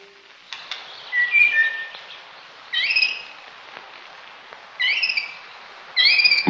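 Songbirds sing in clear bursts of whistled, rising and falling phrases, repeated about four times with short pauses between, close and fairly loud.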